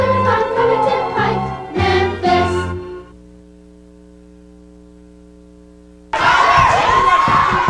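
A wrestling crowd chants in rhythmic unison, drops away to a steady electrical hum, then surges back as loud, dense crowd noise.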